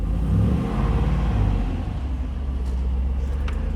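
A Land Rover Discovery engine runs with a deep, continuous rumble and throaty exhaust note, close by and fairly loud.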